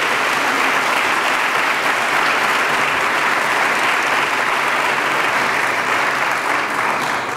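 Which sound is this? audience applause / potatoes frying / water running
audience applause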